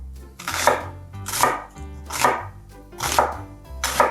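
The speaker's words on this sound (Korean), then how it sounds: "반 개는 채를 써서 넣을 거예요" A knife slices onion into strips on a cutting board in five steady, evenly spaced strokes, crisp and close, with no voices.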